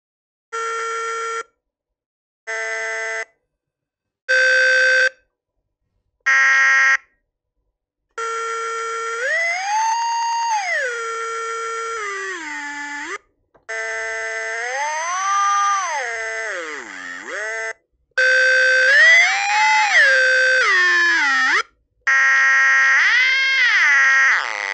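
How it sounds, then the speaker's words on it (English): Electronic tones synthesized by a Cromemco D+7A input/output card under analog joystick control: a few short separated beeps, then longer sustained buzzy tones that bend and swoop in pitch, loud and with no voices. "we can control some sound being synthesized through the analog output using the joystick."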